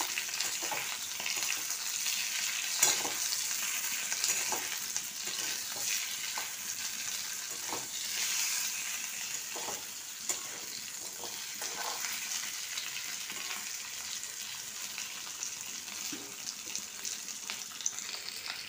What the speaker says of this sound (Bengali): এবার এটাকে একটু ভালোভাবে ভেজে নিচ্ছি আলুটাকে